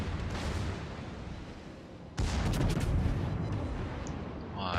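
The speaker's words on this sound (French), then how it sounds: "les canons partent dans tous les sens" Warship cannons firing in a naval combat video game around a Kawachi battleship, heavy booming blasts that rumble on, with a fresh loud salvo midway.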